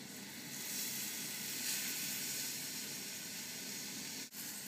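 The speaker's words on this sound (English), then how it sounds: "Now we've got our cooled syrup, and we are just going to drizzle it over the top. You should hear it sizzling." Cooled syrup is drizzled over hot baklava and gives a soft, continuous hiss and sizzle that holds steady throughout, fairly quiet and with no talking.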